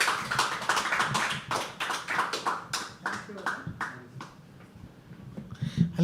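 An audience at a live poetry open mic claps in sharp, rapid bursts that slowly thin out, with voices talking over the applause.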